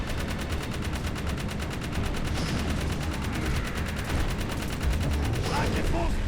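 Rapid turret gunfire in the Jak 3 video game, a dense continuous stream of loud shots with explosive bursts, filling the whole stretch with no pauses.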